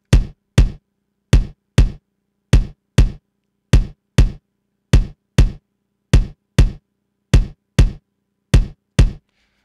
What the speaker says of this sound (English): This is the drums, and it's supposed to sound like this.